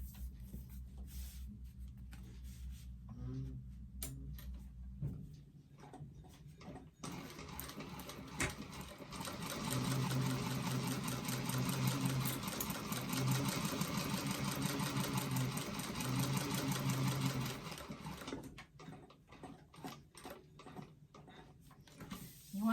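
Sewing machine stitching a doctor bag, a rapid run of steady mechanical stitching for several seconds framed by quieter handling and rustling of the fabric.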